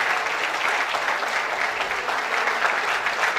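Loud, sustained applause from a large convocation crowd at IIIT Bhopal honoring a topper receiving a medal; a dense, even wash of clapping holds steady throughout.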